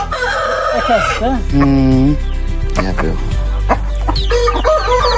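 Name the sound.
rooster clucking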